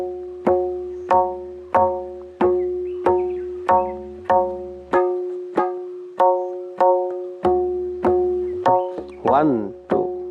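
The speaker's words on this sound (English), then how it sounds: "I'll play the entire Teen Taal in a monotonous way, and then I'll play the same thing in the same laya but by filling it up" A tabla plays the sixteen-beat Teen Taal cycle in plain, unvaried strokes. Resonant, ringing strikes fall at an even pace and sound close and clear, with a brief flurry near the end.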